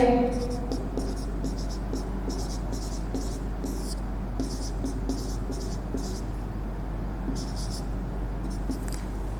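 Chalk or marker scratching on a board during an accounts class comes in short, quick strokes in irregular bursts, faint and close, with a low room hum underneath.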